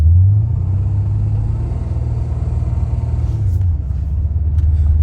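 A Pontiac GTO with a failing automatic transmission runs and pulls away, its low engine rumble loud and close, the pitch dropping near the midpoint as a gear change comes through, with no talk.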